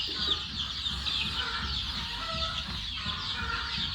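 Several chickens cluck and chatter continuously nearby, their overlapping calls forming a busy, steady barnyard murmur.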